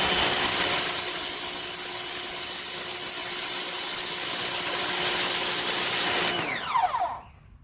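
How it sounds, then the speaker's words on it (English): A Powerplay SPY2030 electric pressure washer sprays through its red 0-degree nozzle, giving a loud, steady hiss with a pump whine that runs without a break, then winds down and falls quiet in the last second. "we'll go to the red 0 degree, so this will be the highest pressure"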